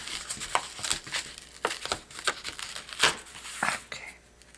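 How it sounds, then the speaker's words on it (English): Paper for a handmade card is snipped with a pair of scissors, producing a quick series of crisp cutting sounds and light paper crinkles, fairly close and moderately loud. "Need to take my paper and I need to snip"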